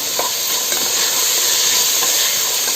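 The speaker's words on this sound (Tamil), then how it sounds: "இப்போ இது எல்லாத்தையுமே கலந்து விட்டுக்கலாம்." Potatoes and peas being stirred in a pan for mushroom biryani, a steady loud hissing sizzle with occasional soft scrapes of the spoon, close up and continuous.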